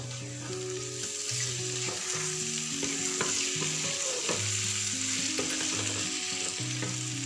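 Chicken sizzles in a pan over low gas, with a steady frying hiss and a few stirring scrapes as it is turned, while music plays softly underneath.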